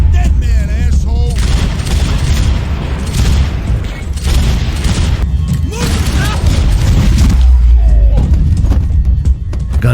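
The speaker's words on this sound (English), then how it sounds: "Gunfire over Hoboken." Bursts of rapid gunfire and heavy booms from Max Payne 3, loud and near, with strained vocal sounds and bright zipping effects between volleys.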